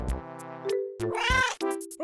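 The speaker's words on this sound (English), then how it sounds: "Oh, hi, kitty." A cat meows several times close by, with a few drawn-out, loud tonal calls in quick succession and no talking.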